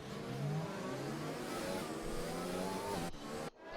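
Race cars in a racing video game pull away at the start of a formation lap, engines revving steadily and loud in a dense mix of motors before the sound cuts off abruptly near the end.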